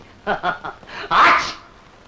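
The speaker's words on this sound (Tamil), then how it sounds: "ரெட்ட தும்மலா இருக்கட்டும்." A double sneeze from a film, two quick short bursts followed by a louder, breathy sneeze, close and clear with no talking over it.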